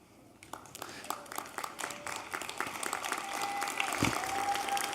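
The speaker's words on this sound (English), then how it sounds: "give them a big applause" Commencement audience applause for graduates' families, a dense sustained clapping from a large crowd that swells steadily louder over several seconds, with scattered cheers and a brief whistle rising through it.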